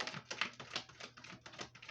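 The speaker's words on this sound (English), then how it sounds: "Can't stop shuffling." Rapid papery riffling and tapping repeats in quick bursts, close up and steady, like a deck of tarot cards being shuffled over and over.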